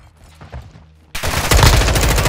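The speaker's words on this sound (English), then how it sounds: "Taking effective fire." Gunfire in a Call of Duty Modern Warfare 2 online team deathmatch, with faint shots first, then a sudden loud stretch of dense, rapid automatic fire close by.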